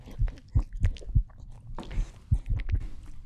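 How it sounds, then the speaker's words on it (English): Crunching noises in the horror video game Wrong Floor, irregular loud close crunches and thuds repeating every half second or so, with no talk over them. "I don't like that crunching noise."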